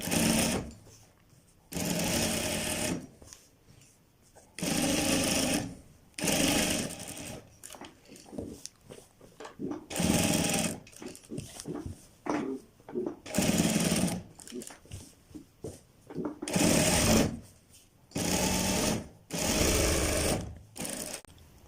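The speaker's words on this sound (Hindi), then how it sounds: "और बिठाने के बाद आप अपने इस जगह पर सिलाई लगा दें ताकि आपका पीस यहाँ से फाइनल टच में आ जाए।" Sewing machine stitching the back piece of a men's high-neck kurta, running in repeated loud bursts of a few seconds separated by pauses, with someone talking in between.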